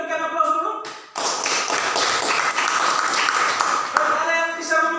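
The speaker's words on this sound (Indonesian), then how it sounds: "Kita berikan aplaus dulu." A classroom of students breaks into brisk clapping that runs steadily for about four seconds, following a short spoken prompt and fading into talk at the end.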